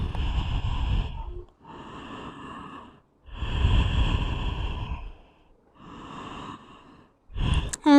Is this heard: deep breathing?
yes